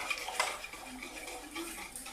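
A spoon stirring cocoa powder into milk in a vessel for a chocolate milkshake, soft scraping and a few light clinks against the side, close and quiet over a couple of seconds.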